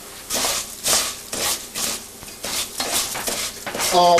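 Rice browning in a pan for Mexican rice is stirred with a utensil, giving a series of close, scraping and rustling strokes in an uneven rhythm, with no voices.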